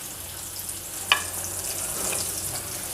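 Chopped green chili fries in a pan for vermicelli pulao, giving a steady, gentle hiss of oil with a single light click of a utensil.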